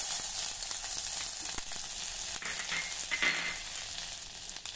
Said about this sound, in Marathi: तेल गरम झालं की त्यामध्ये थोडी मोहरी घालूया, जिरे, पाव टीस्पून किसलेलं आलं